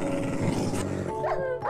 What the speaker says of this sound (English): Holy crap! Angry dogs!